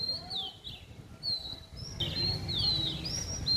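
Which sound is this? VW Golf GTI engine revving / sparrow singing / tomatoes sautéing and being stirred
sparrow singing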